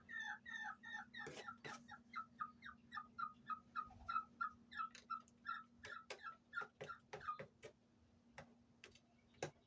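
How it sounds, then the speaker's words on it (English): A chicken gives gull-like calls, a close, clear run of repeated, evenly spaced cries about twice a second, mixed with sharp clicking taps over a steady low hum. "Why do you sound like a seagull?"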